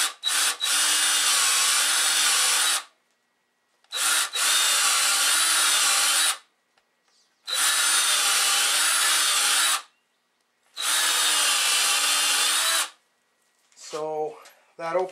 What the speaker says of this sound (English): taking my step drill, as opposed to just a drill, and running it through the hole just to burn it out a little bit